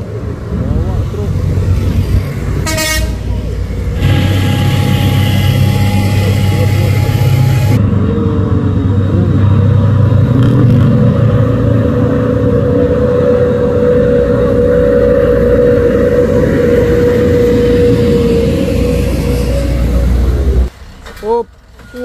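Heavily loaded trailer truck engine laboring and straining on a road, a loud, continuous low drone with a sustained grinding tone, close by and steady for most of the stretch before cutting off near the end.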